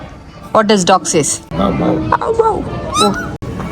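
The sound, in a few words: child imitating a dog barking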